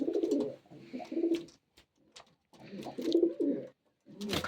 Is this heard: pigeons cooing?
yes